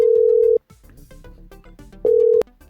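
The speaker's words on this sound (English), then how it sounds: "Right, it's ringing." A phone rings out on the line with two loud, steady purring tones about a second and a half apart, separated by faint background noise.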